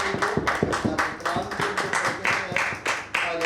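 A church congregation claps hands together in strong, regular rhythm during a Hindi-language worship service, each clap sharp and close, forming a steady beat with voices mixed in underneath.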